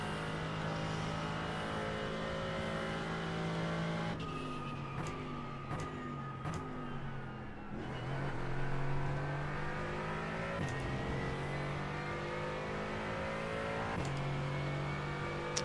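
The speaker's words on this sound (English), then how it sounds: "Does the engine sound rude as?" A race car engine revving hard on a track, with repeated rising gear sweeps and sharp shifts, loud and close throughout, no talking.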